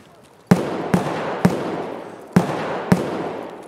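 Five sharp, loud gunshots from the video game Escape From Tarkov, fired in an uneven rhythm with gaps of roughly half a second to a second, each followed by a booming decay.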